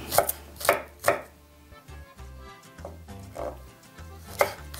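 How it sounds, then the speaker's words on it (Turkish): A knife chops garlic on a cutting board in quick, uneven taps, close and crisp, with soft background music. "Sarımsaklarımızı bu şekilde doğruyoruz."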